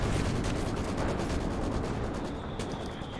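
Maxim machine gun firing in Company of Heroes 2, a dense, continuous stream of rapid shots with rumbling battle noise, loud and steady throughout with no talking.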